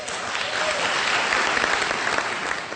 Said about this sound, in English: to the applause of his fellow Republicans